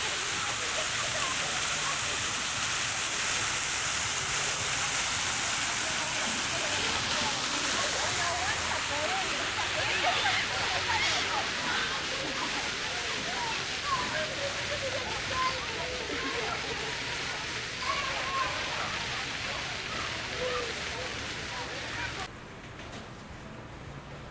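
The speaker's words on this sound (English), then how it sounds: "You'll see it's got a water fountain back there." Steady rushing, splashing water from a fountain in a small park in central Puyo, Ecuador, fills the scene, with faint voices and street noise mixed in underneath.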